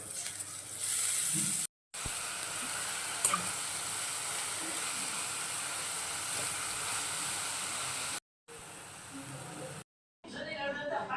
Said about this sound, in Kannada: ಹಾಗೆ ಮೆಣಸಿನ್ಕಾಯಿ ಎಲ್ಲನೂ ಸ್ವಲ್ಪ ಫ್ರೈ ಮಾಡ್ಕೊತೀನಿ.